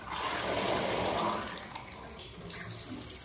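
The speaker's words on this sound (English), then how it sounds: "Who knew the sound of running water could be so sweet?" Tap water gushing steadily after a household water main is turned back on, a loud broadband rush for the first second and a half that then eases to a softer, continuous flow.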